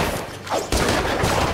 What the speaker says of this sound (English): I've been shot by that bastard with a gun